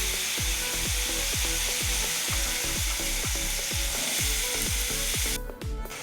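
Cluster beans dropped into a hot pan of masala spices, giving a loud, continuous sizzle with a rhythmic thumping underneath and a brief clatter near the end.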